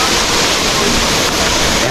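Steady, loud rushing roar of the Kuang Si waterfall in Laos during the dry season, a continuous broadband wash of falling water with no pauses.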